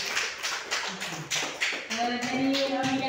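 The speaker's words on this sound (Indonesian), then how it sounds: "Tepuk tangan dulu untuk Bapak Ratu." An audience claps in a rhythmic burst of applause after a talk, and a steady tone rises beneath the later claps.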